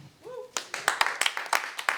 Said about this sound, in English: You guys give her a round of applause for Candace, please.